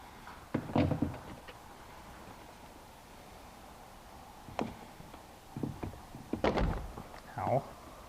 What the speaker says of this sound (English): We have a couple electrical plugs to disconnect.